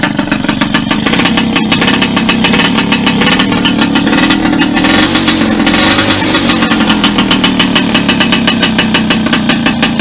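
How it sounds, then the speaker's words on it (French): An MBK 51 moped engine idles steadily and loudly at close range, a fast even two-stroke putter that holds constant throughout with no talk. "le ralenti est stable et à bonne hauteur"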